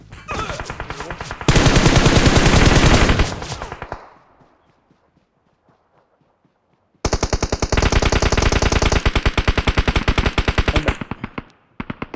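Rapid automatic gunfire from PUBG Mobile on the Livik map, loud and close in two long sustained bursts separated by a few seconds of near silence, with a short trailing crack at the end.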